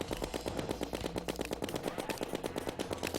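Rapid-fire minishark gun shooting meteor bullets in Terraria, a dense, continuous burst of quick mechanical shots with no pauses.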